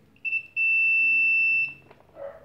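A single sustained high-pitched multimeter continuity beep lasting about a second, preceded by a brief short chirp, in a quiet room while testing a microwave oven high-voltage fuse.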